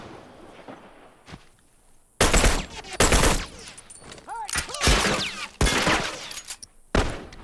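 Bursts of gunfire in The Last of Us multiplayer, loud sharp volleys in quick succession from about two seconds on, with footsteps and quieter game noise between them and no one talking.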